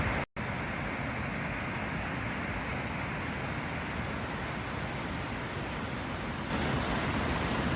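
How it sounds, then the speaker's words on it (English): A creek beside a remote campsite down a dirt road rushes in a steady, broadband wash, close and loud throughout, briefly cut out for an instant near the start. "I'm right next to this creek."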